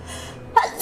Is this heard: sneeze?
yes